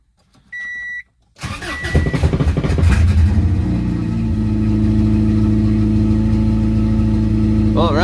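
A 1992 Subaru Legacy with a misfire: a warning chime sounds, then the starter cranks and the engine catches and settles into a rough, uneven idle, loud and close.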